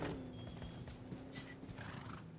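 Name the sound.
horse in a video game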